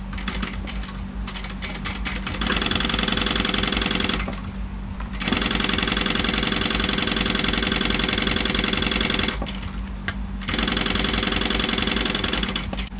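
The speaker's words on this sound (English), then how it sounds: "We're going to put this right sides together and sew with the seam allowance given in the pattern" Sewing machine stitching a shoulder bag seam with right sides together, running in several bursts of steady mechanical chatter separated by brief pauses, close and fairly loud.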